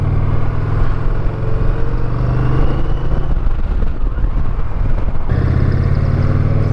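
A 2023 Indian Challenger Dark Horse motorcycle rides with a loud, steady low engine drone and wind rush, its tone dipping briefly midway during a shift into second gear.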